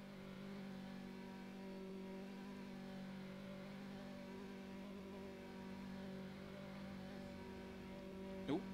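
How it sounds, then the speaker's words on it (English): A racing video game's onboard Porsche engine sound drones at a constant pitch, quiet and even, with a brief sharper spike near the end. "Hear the sweet onboard sound."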